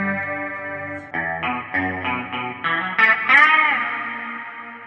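Electric guitar through a chorus effect plays a short run of shimmering, wavering notes, loud and close, ending on a held, swirling chord.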